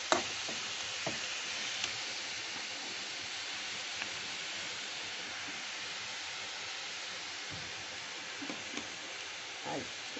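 Curry leaves sizzle in hot oil while papaya upma is cooked, a steady close hiss of frying that carries on throughout with a few faint clicks of stirring and no talking.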